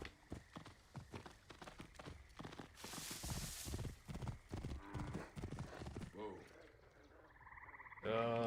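Horse hooves clip-clop steadily on the ground while riding in Assassin's Creed Origins, a rhythmic gallop heard under someone talking, with game effects and a voice exclaiming near the end.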